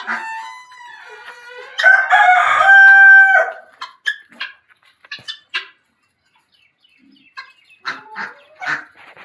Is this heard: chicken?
yes